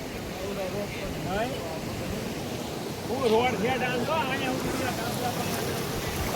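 Floodwater from heavy rain near Roniya and Gundarni surges in a continuous broad rush, with someone talking over it close by.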